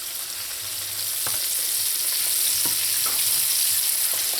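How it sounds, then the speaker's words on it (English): Steady close sizzle of pork frying in hot oil, with a few soft clinks and stirring knocks breaking through the constant crackle. "I'm going to continue frying up the rest of pork"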